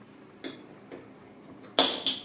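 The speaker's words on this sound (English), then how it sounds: "if I press that down with a spoon" A metal spoon taps and clinks against a glass jar while pressing herbs down into oil for a cold infusion, a few separate knocks followed by two louder, brighter clinks near the end.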